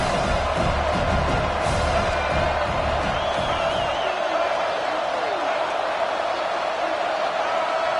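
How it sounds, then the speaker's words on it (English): A stadium crowd roaring in a college football video game, a dense sustained roar with slaps and cheers that thins out halfway as a commentator's voice carries on. "with this place rocking, the crowd forces a false start"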